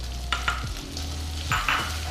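A spoon scrapes and stirs flour into melted butter in a saucepan for béchamel, producing a soft sizzle with a few short scraping strokes, close and fairly quiet, with no talking.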